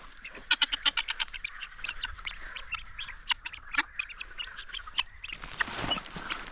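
Guinea fowl released from an aviary into open countryside give rapid, repeated loud cackling calls in overlapping bursts, fairly close, followed by a brief rustle of movement near the end.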